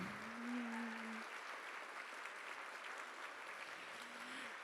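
An audience gives a standing ovation for Healing House participants at an evening event, sustained applause filling the room from start to end, with a voice briefly heard over it.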